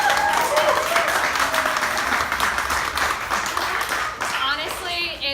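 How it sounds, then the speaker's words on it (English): An audience applauds steadily, a dense wash of clapping that carries on throughout, with some cheering voices mixed in. "applause for Kristen."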